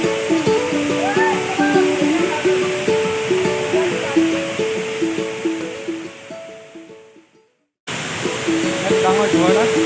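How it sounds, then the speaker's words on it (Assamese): Toklangsu waterfall in Karbi Anglong runs high and muddy, a steady broad roar of falling water under a tuneful melody, cutting out briefly near the end before resuming. "আজি বৰ্তমান পানী অলপ বাঢ়িছে, আহিছে, ঘোলা পানী আহিছে"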